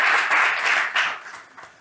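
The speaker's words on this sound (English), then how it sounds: "Applause for that." An audience at a panel discussion on Latinos, education and the Catholic Church breaks into brief applause, a close burst of many clapping hands that fades within two seconds.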